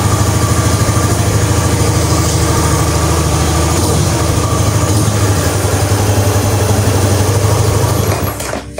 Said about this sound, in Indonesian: jadi motornya sudah bisa hidup seperti biasa normal lagi